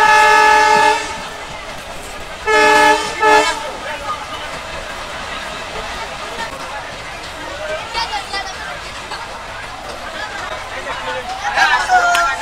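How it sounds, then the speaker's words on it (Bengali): A Mongla commuter train pulls into Chulkati station, sounding two loud horn blasts, one right at the start and another moments later, before its rumble and a busy crowd murmur carry on. "আমাদের ট্রেন চলে আসলো হচ্ছে চুলকাটি স্টেশনে"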